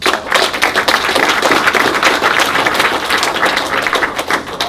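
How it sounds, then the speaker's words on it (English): A round of applause for a speaker after a talk on tracking mental health with a smartphone, dense steady clapping from an audience, fairly loud and close, with no voices over it. "if we can give Ryan a round of applause."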